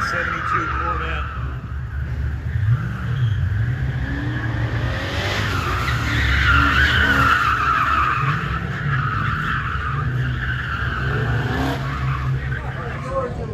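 A 1972 Corvette on an autocross course squeals its tires in sustained skids over a steady engine roar, loud and continuous throughout, with an announcer's voice heard talking over it.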